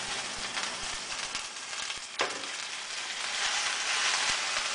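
Amaranth greens dropped into a pan of browned, sautéing onions, a steady crackling sizzle that swells with a sharp hiss as the leaves go in, then keeps frying with scattered pops.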